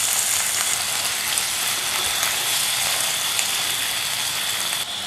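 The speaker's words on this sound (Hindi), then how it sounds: "तकरीबन 2 मिनट मैंने चिकन को पकाया है" Shredded chicken cooks in a pan with its stock, giving a continuous bright sizzle and bubbling hiss at close range, steady throughout with no voices.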